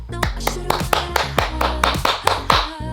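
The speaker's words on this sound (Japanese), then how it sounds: "何それ？ 拍手。 拍手。" Hand clapping at a hair salon, a quick series of about ten sharp, close claps in a steady, slightly uneven rhythm over a low hum.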